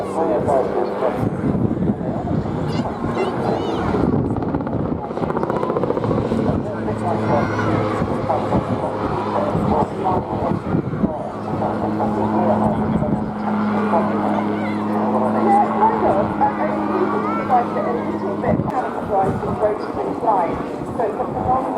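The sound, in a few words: Calidus autogyro flying at an airshow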